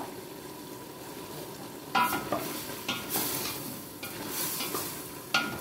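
A hotdog fries in a pan with a soft continuous sizzle, and a utensil stirs and scrapes in several quick strokes against the pan.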